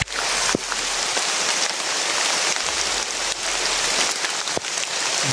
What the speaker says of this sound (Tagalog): Ito sobrang lakas ng ulan.